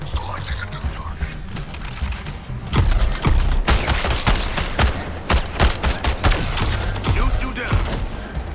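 Dense bursts of gunfire from Suicide Squad: Kill the Justice League, with rapid overlapping shots and heavy booms building into a sustained loud barrage, punctuated by sharp individual cracks.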